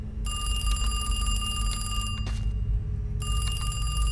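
A telephone bell rings in a SpongeBob video game, a bright continuous electronic trill that stops briefly and then starts again, over a low background rumble.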